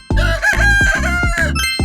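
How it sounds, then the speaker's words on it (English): A rooster crows loudly and close, a single drawn-out cock-a-doodle-doo broken into several rapid pulses, set within a children's song naming the Chinese zodiac animals. "rooster,"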